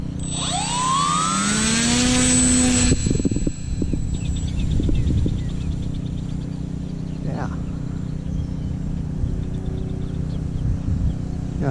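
A Skynetic Shrike model jet accelerates for takeoff with a rising whine that cuts off abruptly, followed by a fainter steady engine drone as it flies away, with outdoor wind noise.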